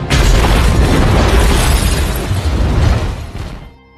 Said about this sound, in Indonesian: hingga terjadilah ledakan